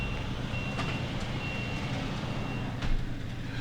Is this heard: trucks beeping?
yes